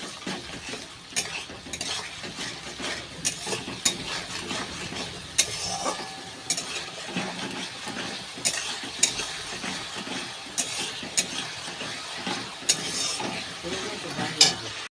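Spice paste with turmeric, salt and ginger paste sautéing for Gobindobhog rice khichdi, with steady stirring scrapes and soft sizzling throughout, close and moderately loud, with no talking.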